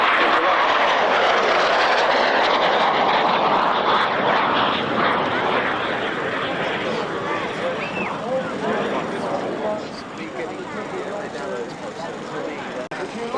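A small jet aeroplane flies past at an airshow with a broad, loud engine roar that slowly fades, while a commentator talks over it throughout.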